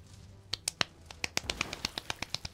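Sharp, crisp claps from a Resident Evil 2 Remake playthrough start slow and sparse, then settle into a steadier, quicker rhythm, with about fifteen in all.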